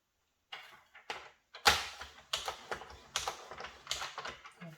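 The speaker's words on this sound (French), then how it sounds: "Là, on marque nos plis." Paper being creased into folds while making a Harry Potter themed album page with pockets: a series of short, crisp taps and swipes, close and fairly loud, repeating irregularly with no talking.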